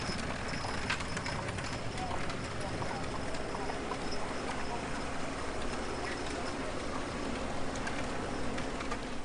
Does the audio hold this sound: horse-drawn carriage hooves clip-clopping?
yes